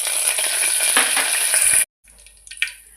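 Curry leaves fry in hot oil in a pan with mustard and cumin seeds, the first step of a cabbage tomato curry. A loud, close sizzle lasts nearly two seconds, cuts out briefly, then returns as quieter crackling and stirring.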